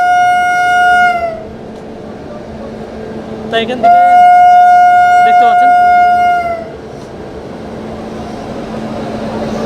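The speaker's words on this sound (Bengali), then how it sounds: "তার তিনটে বার হর্ন দেওয়ার পরে কিন্তু ইতিমধ্যেই রওনা হয়ে গেল কলকাতা টু সাইরান এক্সপ্রেস" Kolkata to Sairang Express train horn, two long loud blasts with a short burst between, heard over someone talking at the platform as the train departs.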